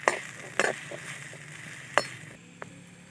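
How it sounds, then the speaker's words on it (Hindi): Bhindi (okra) being stirred in a pan, with sharp metallic clinks of a spoon against the pan at irregular intervals over a faint, steady background sizzle. "फिर इसको तब तक भूनेंगे जब तक इनका कलर थोड़ा सा चेंज हो जाए"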